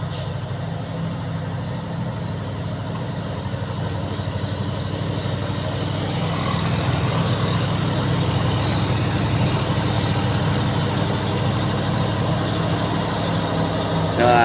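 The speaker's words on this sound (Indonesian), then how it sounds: "Ini udah dipastikan ini unitnya masuk gigi rendah." A truck on a western-southern Aceh highway labours in low gear, its engine a steady, loud low drone that holds for the whole stretch with a slight rise in intensity midway.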